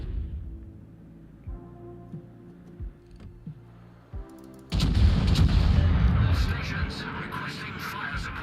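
Warship turret guns fire in World of Warships: several spaced distant thumps, then a heavy, sustained roar of gunfire rumbling for the last few seconds.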